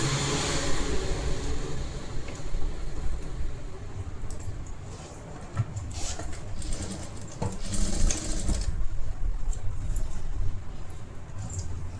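A sewing machine stitches blouse pieces in a continuous, loud whirring run with small variations in speed and faint clicks, and no talking.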